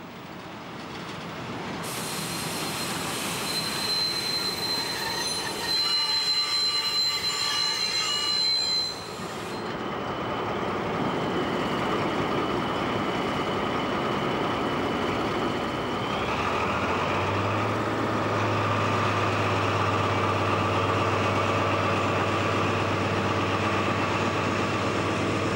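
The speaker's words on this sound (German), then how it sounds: "Einfahrt in den Bahnhof Mohlsdorf, die ehemals größte Station auf dem Weg nach Greiz." A DR V100 diesel locomotive train rolls into Mohlsdorf station on the line toward Greiz, loud and close, with grinding wheel squeal, rail rumble and a steady low engine drone as it passes and slows, no voices.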